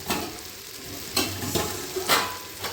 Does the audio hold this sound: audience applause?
no